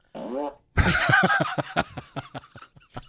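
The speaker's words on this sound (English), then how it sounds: "Fart machine." A fart machine lets out a short, buzzy blurt, followed by a burst of people laughing and chuckling that tapers into scattered snickers.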